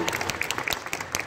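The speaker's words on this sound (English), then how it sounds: "I think a round of applause for that." Comic con panel audience in Birmingham applauds, a brief, dense burst of many hands clapping close and steady.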